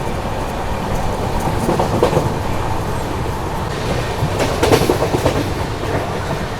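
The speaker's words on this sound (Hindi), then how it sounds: "बगल से अभी क्रॉस कर रही है भारत गौरव टूरिस्ट ट्रेन" A Bharat Gaurav tourist train passes on the adjacent track, heard from inside a moving train at sunset, with a steady rolling rumble and clickety-clack of wheels building toward a louder stretch near the end.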